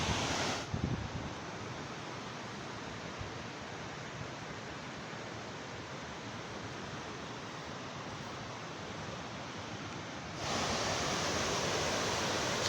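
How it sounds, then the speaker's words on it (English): Water pours continuously over a stone canal weir built on a natural waterfall between rock walls, a dense, steady rushing roar heard close up that swells louder near the end. "The weir was built on a natural waterfall between 2 valleys."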